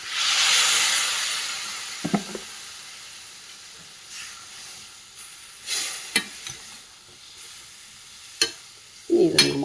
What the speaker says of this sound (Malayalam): ഇനി ഇത്തിരി തിളച്ച വെള്ളം ഒഴിക്കും